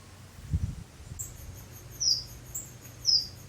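Parrot finches chirping in an aviary, three short high-pitched calls spaced about a second apart over a low background rumble and a faint thump near the start.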